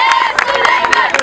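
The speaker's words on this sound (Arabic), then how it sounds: "تفيقة حارة على سليمان" Warm applause and crowd noise for a goalkeeper receiving a trophy at a regional football league award ceremony, steady clapping with cheers, close and continuous under a busy room.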